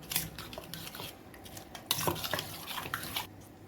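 A spoon stirring onion raita with carrot, coriander and salt in a bowl, clinking and soft scraping taps in uneven bursts, close by and fairly quiet.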